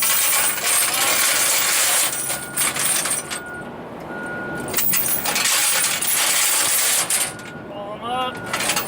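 Metal tire chains are folded up after untwisting, giving loud, continuous jangling and clinking of links with brief pauses between bursts.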